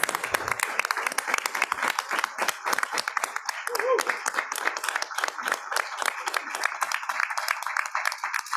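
Audience applause at a county board of education meeting honoring poets, a dense, steady wash of many hands clapping close by, continuing for several seconds with a slight thinning toward the end.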